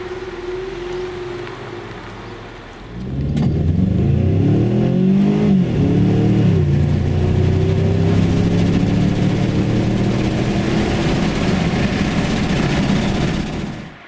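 A Ford Mustang 2.3-litre EcoBoost launching from standstill to 100 km/h, first idling quietly, then a loud engine roar that rises in pitch through successive gear changes, heard from inside the car with no talking.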